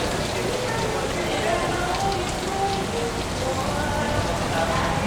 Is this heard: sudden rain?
yes